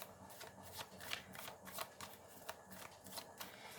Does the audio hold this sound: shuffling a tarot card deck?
yes